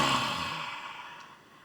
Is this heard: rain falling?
no